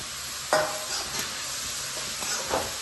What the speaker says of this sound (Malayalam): നമുക്ക് നല്ലപോലെ വഴറ്റി എടുക്കണം. അതിലൂടെ നമ്മൾ അരിഞ്ഞ് വെച്ചിരിക്കുന്ന ക്യാരറ്റും കൂടി ഇട്ട് കൊടുക്കാം.